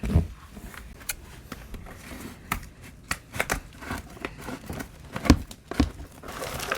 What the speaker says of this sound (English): I think I'm going to have to cut this pot